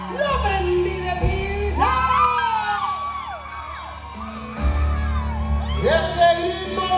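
A concert crowd at a live show in North Carolina shouts, whoops and cheers in loud, sustained waves, with music playing beneath the voices.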